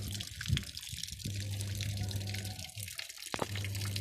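Red coolant mixed with water draining out of a truck radiator, a steady trickling, splashing stream of liquid heard fairly close with a low hum underneath.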